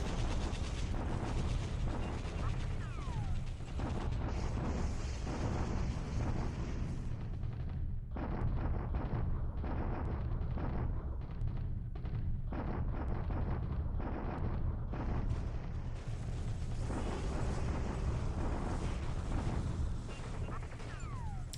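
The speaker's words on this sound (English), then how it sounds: "nice bombardment" Heavy naval bombardment in the World War II strategy game War in the Pacific, with repeated booming blasts and rumbling artillery fire rolling continuously under dense layered battle noise.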